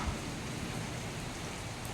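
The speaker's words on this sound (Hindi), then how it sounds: "इतनी तेज़ बारिश शुरू हो गई" Heavy rain pours steadily in a dense, even hiss, loud and close, with no voices.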